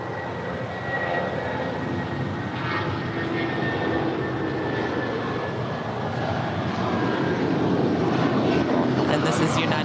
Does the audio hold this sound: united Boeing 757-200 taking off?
yes